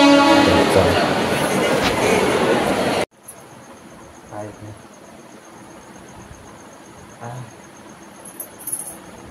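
A crowded passenger train on the Chiplun to Mumbai rail route makes a loud, dense rumble for about three seconds, then the sound cuts abruptly to a quiet ambience with chirping crickets and occasional soft knocks.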